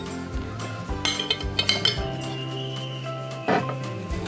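Metal cutlery clinks and scrapes against a plate while cutting through a whole roasted napa cabbage salad with bacon, several close, light taps in quick succession followed by a longer scrape and one sharper knock.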